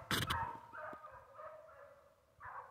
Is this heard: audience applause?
no